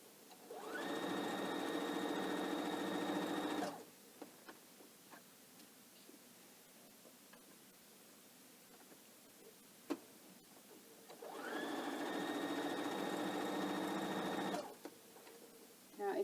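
A sewing machine stitches a pillow case in two separate bursts, each lasting a few seconds, with quiet handling and rustling in between.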